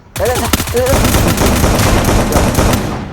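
Rapid automatic gunfire rattles out in a battle royale shooter, loud and close, a sustained burst of shots following a few brief voiced sounds at the start.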